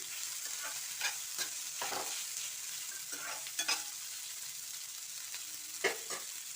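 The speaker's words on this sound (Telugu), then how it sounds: "ఇది బాగా వేగనివ్వాలి. ఉల్లిపాయలు కనిపిస్తూ ఉంటే బాగుంటుంది." Chopped onions fry in a pan with a steady background sizzle, broken by scattered scraping stir strokes and light clinks, heard close and alone with no voices.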